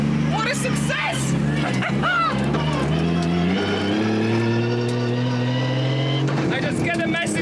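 A Toyota Supra built by Worthouse on its first 2023 shakedown, with weak brakes and a loosely attached hood. The engine drones steadily close by under continuous excited talk.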